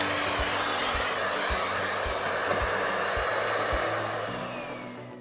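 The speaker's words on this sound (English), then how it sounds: "You can also check it by running the vacuum cleaner at maximum power" A Miele Complete C3 canister vacuum cleaner runs at maximum power with its floor head raised, a loud, steady roaring whoosh with a low motor hum that fades slightly toward the end.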